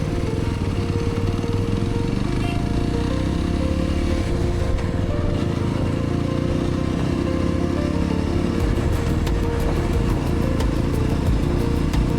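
A motorcycle engine drones steadily during a ride on a bypass road in rough weather, with a constant loud rumble and wind buffeting close to the rider.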